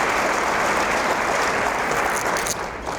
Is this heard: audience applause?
yes